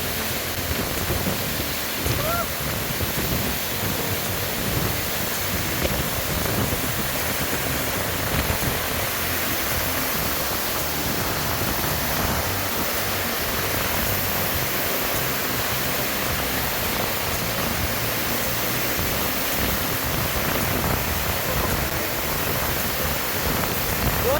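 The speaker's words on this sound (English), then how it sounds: "then finally I get to put my body in the water of a waterfall" Broad, steady roar of a waterfall in Colombia, loud and continuous throughout with no voices, the dense rush of falling water filling the whole scene.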